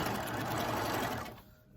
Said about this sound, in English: attach it to your sewing machine so you can do 2 rows of stitching at one time